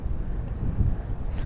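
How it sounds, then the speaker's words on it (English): Strong wind buffets the microphone on a fishing boat out on the water, a continuous loud low rumble and gusting roar. "So windy, man."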